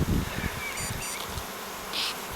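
Swarm of Carniolan honey bees buzzing, a dense continuous hum with individual bees droning close by, steady and moderately loud with no voices.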